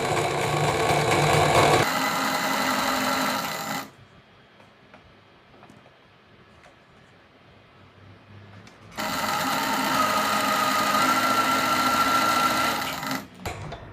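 A sewing machine stitches a dress hem in two loud, steady bursts of rapid mechanical whirring, separated by a quiet pause of several seconds.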